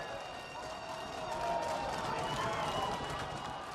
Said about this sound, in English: It's a raucous crowd. We have not heard this kind of noise throughout the week.